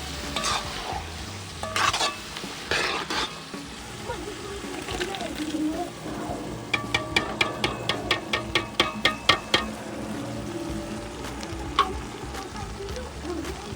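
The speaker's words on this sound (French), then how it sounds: "on va rajouter ça dans la marmite. Et puis on va fermer la marmite, laisser mijoter" Crawfish with garlic and white pepper cook in a pot, a soft sizzle under repeated stirring, with a quick run of sharp taps against the pot midway and a voice talking throughout.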